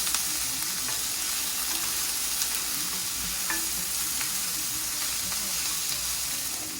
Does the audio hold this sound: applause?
no